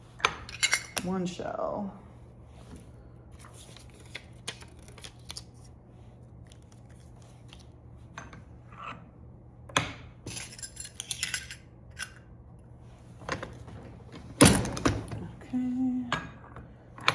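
Loose buttons clatter and scrape inside a Chi Buttons machine in a string of brief metallic rattles, with a louder jangle near the end and a few quiet spoken words.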